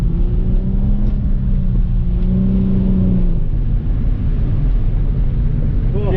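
A car on a drift track rolls through an easy cool-down lap, its engine giving a steady, fairly loud droning hum with a faint tonal whine, mixed with buffeting wind noise.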